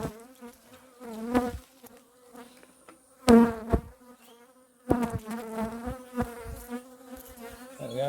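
Honey bees buzz around beehives set in a valley, a steady droning hum that swells loudly as individual bees pass close, then fades between passes, outdoors with no talking.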